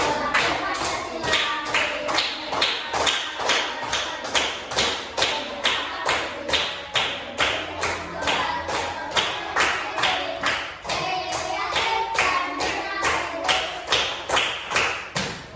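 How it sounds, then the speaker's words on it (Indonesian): A class of students performs the rhythmic Pancasila student profile clap, a group clapping together in a steady, patterned beat of sharp, closely spaced claps that continues without pause. "Kita tepuk profil pelajar Pancasila ya."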